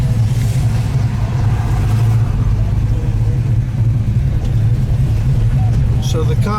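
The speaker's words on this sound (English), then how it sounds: "Look at a double clutch." A Ford GTHO Phase 3 tribute in vermilion fire, rotisserie-built, runs with a loud, steady engine drone and rising revs through a double-clutch shift, the low rumble constant and close throughout, ending with a brief higher-pitched sound.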